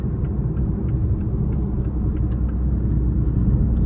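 A BMW B58-engined car with a tuned setup and aftermarket intake manifold pulls hard in fourth gear, a steady, loud low rumble of engine and road noise holding constant throughout with no talking.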